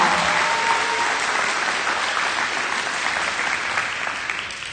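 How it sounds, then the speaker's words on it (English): Sustained applause from an audience at a preschool graduation ceremony, a dense, steady wash of clapping that fades slightly toward the end. "I'd like to get a round of applause for these children, these boys and girls, and all they've learned."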